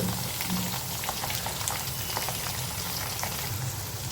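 Brinjal (eggplant) pieces with salt fry in an open, uncovered pan, giving a steady, even crackle and sizzle with scattered pops, moderately close.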